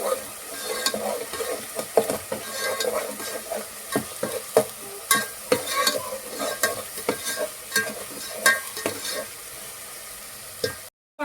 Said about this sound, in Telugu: ఆయిల్లో వేయించుకున్నాము పేస్ట్ బాగా వేగాలి ఫ్రెండ్స్ వేయించుకోవాలి